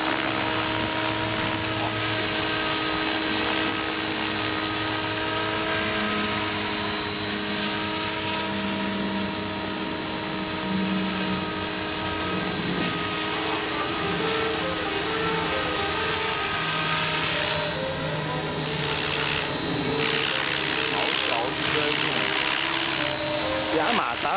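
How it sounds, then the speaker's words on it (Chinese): A TBS Mini sound card plays a simulated helicopter motor, giving a steady whirring drone with sustained tonal whine, moderately loud and continuous throughout. Brief voices may be under it. "假马达的声音就这样了。"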